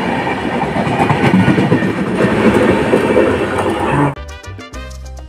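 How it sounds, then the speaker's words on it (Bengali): The Alipurduar Tourist Express rolls loudly past at close range with a dense rumble and rhythmic wheel clatter, then cuts off sharply into a quieter station ambience with a tonal chime. "এটা হচ্ছে আলিপুরদুয়ার জংশন থেকে আগত আলিপুরদুয়ার ট্যুরিস্ট এক্সপ্রেস।"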